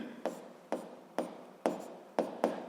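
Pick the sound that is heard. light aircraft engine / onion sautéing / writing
writing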